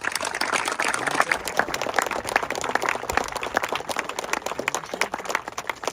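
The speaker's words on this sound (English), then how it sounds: "Round of applause for the volunteers, please." Outdoor crowd at a parkrun event applauds the volunteers, a steady wash of many hands clapping throughout, fairly loud and continuous with no one speaking over it.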